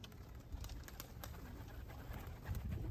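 Low, soft cooing of a male pigeon repeating at intervals over faint background noise, fairly close and gentle.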